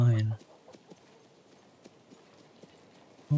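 Horse hooves clip-clop in a steady, soft rhythm of faint footfalls across a fantasy game world in King's Bounty 2, with a brief voice at the start and end.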